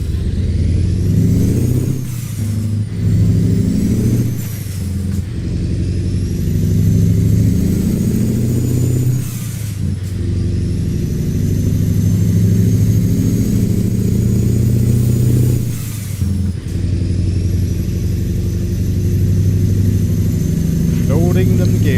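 A truck engine hauling road trains in Mexico drones loudly and continuously, with its pitch dropping and climbing again at each of several clutch gear changes, and people speak over the steady roar.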